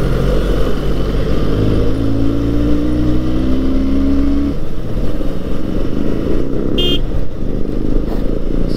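A Benelli 302R twin-cylinder 300cc sports bike pulls away from low speed in fifth gear, its engine note rising steadily and loud and close, then a brief horn-like blip near the end.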